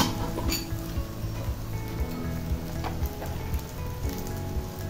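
Chopped onion, tomato and green chilies frying in oil in a pan, a steady crackling hiss running throughout at moderate loudness with occasional faint clinks and no talk.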